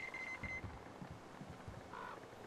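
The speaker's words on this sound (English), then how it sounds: "There's some beeping going about." In the video game Metro Exodus, a thin electronic beep repeats twice in quick succession, then another tone sounds later, quiet and high over low ambient rumble and footsteps.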